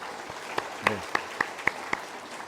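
A congregation claps at an elder ordination ceremony in a church, scattered sharp claps standing out above a soft continuous applause over about two seconds.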